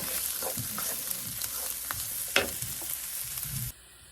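Garlic and onion fry in a pan for corned beef with cheese, giving a steady close sizzle with scraping stirs and a louder clack midway, alone without talk, before the sound cuts off abruptly.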